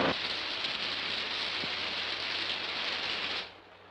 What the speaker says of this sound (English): There's your rain, but good.